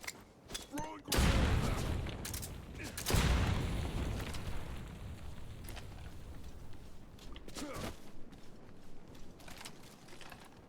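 In the Metal Gear video game, a grenade is thrown and explodes with a heavy boom, followed by another blast and a long, noisy rumble of game effects with short clicks and taps mixed in.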